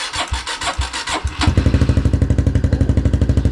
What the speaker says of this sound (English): Here's the first start with the new exhaust.